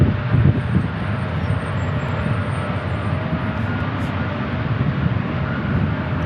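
A jet airliner in a special 100-year anniversary livery moves past at San Diego International Airport, a steady, fairly loud engine rumble that swells slightly at the start and holds throughout with no voices.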